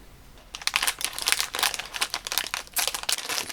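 A plastic candy packet crinkles and rustles close by, crackling continuously as it is handled and torn open.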